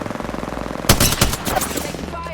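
Sustained automatic gunfire in Apex Legends: steady rapid shots, then a louder burst of several close, punchy shots before the firing trails off, with a player's voice faintly underneath.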